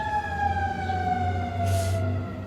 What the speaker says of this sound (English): You can hear the ambulance passing by.